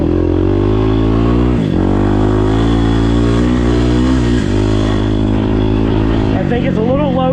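A 2024 Kawasaki KLX300R dirt bike fitted with a lowering link idles in neutral at a track, its steady close engine drone running throughout with a couple of brief dips in pitch.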